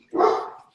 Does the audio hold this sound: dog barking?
yes